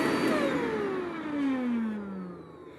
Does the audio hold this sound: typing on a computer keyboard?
no